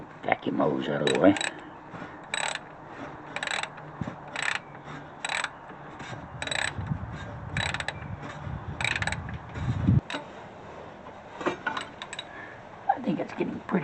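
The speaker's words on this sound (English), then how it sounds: "Let's see if we can finish it up with the wrench. Short socket again." A ratchet wrench with a short socket tightens a fastener on a cold workday, its rapid pawl clicks coming in repeated bursts of strokes, close and steady, over faint background rumble and occasional voice.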